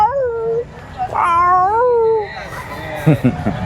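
A Persian cat, a nine-month-old male, meows loudly several times in long, wavering, drawn-out cries, close by, followed by a few short sounds at the end.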